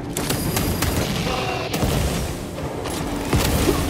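Dense gunfire and heavy booms fill a firefight in Space Marine 2 on Angel of Death difficulty, with bursts of shots and impacts rolling close and loud throughout, no talking over it.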